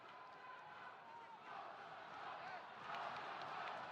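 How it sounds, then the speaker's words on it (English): A boxing crowd at the Pacific Games 2023 51kg final roars and cheers, swelling in two steps into a broad, sustained wash of noise, with voices mixed through it. "Oh, crowd warming up. There they go, building up."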